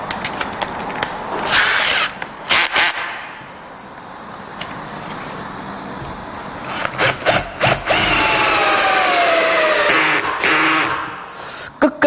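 A Tool&Tool 18V cordless hammer drill bores in with a loud whirring, grinding roar. It runs in stretches, dips quieter, then restarts with sharp bursts and sweeping pitch changes.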